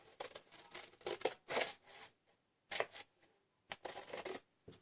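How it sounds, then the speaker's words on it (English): Scissors snip up the sides of paper flaps for a Christmas mini album, giving a series of close, crisp cutting strokes in short bursts with brief pauses between them and no talking. "And now we're going to cut these 3 up the sides of these as well."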